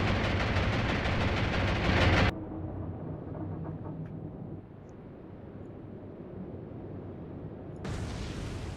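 A torpedo strikes a ship in the naval game Atlantic Fleet, opening with a loud, dense broadband roar that cuts off abruptly after two seconds into a lower, rumbling aftermath before a fresh burst of noise at the end.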